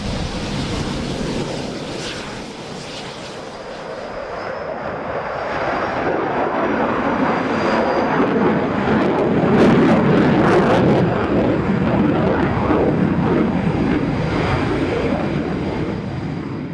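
Eurofighter Typhoon jet engine roaring steadily, a loud broadband rush that swells slightly over the span with a faint high whine, heard alone without talk.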